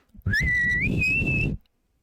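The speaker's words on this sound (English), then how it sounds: "The pirate whistle. That's what I was going for." A person whistles a single sustained pirate whistle, clear and close, holding one pitch before stepping slightly higher and cutting off after about a second and a half.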